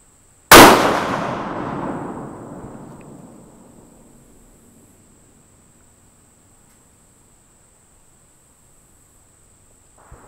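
One sharp, loud rifle shot cracks outdoors during a shooting test with a rifle in a Boyd's Spike Camp stock. A long echo fades away over several seconds, followed by quiet with a faint insect-like hum.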